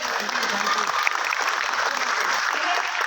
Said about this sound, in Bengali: তো এই জন্য একটু হাততালি প্রাপ্য আমাদের